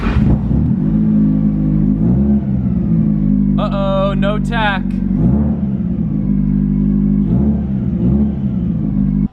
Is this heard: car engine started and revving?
yes